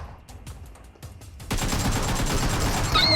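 Shotgun fire in the PUBG Metro Royale mobile game: faint ticking clicks, then a sudden, dense burst of booming gunfire that carries on loudly to the end.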